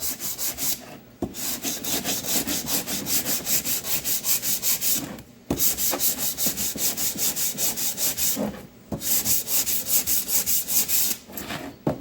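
A mechanic's sanding block scrubs a part of a Fordson Major E27N tractor in steady, rapid back-and-forth strokes, close and loud, with two short pauses between bursts of sanding.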